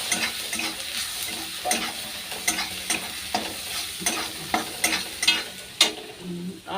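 Tomato sizzles and fries in a pan with chili powder and turmeric. The close, steady sizzle carries regular scraping stir strokes about every half second.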